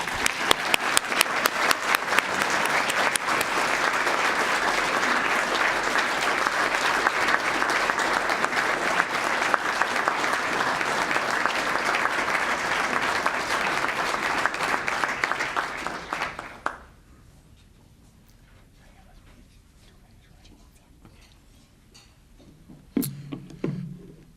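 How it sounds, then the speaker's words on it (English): Loud, steady applause from an audience at a human rights awards breakfast, sustained for about sixteen seconds and then fading quickly to a quiet room with a brief thump near the end. "Please give Mr. Sanders a warm round of applause"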